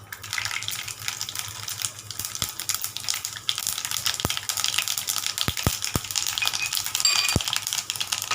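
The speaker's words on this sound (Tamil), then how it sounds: "இப்போ நம்ம கடுகு உளுந்து போட்டுக்கலாம்." Mustard seeds and urad dal splutter in hot oil in a pan, giving a continuous hissing sizzle broken by scattered sharp pops and crackles.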